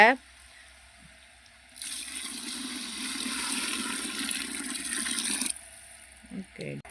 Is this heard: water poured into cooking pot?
yes